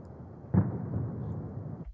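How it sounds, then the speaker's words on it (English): Pitched-down fireworks processed to resemble an explosion: a single heavy low boom bursts out, then a dense rumbling roar sustains for over a second before cutting off abruptly. "I'm going to choose some fireworks"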